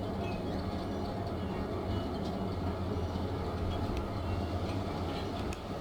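A train ride in the video game Syberia 3, a continuous rolling rumble of carriages on rails with faint clicks and rattles, close and steady throughout, with no voices.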